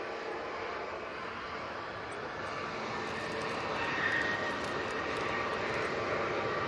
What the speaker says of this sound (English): we do have the Aer Lingus coming in from Dublin